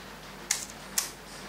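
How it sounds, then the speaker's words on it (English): Two crisp mechanical shutter clicks from a Seagull film camera, about half a second apart, close and sharp against a quiet background. "And then this is a shutter."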